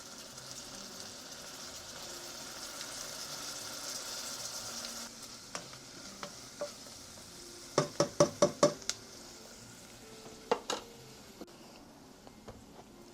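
Minced garlic frying in a pan in the Webkinz video game, a soft steady sizzle followed by a quick burst of sharp knocks and a few scattered clicks, no talking.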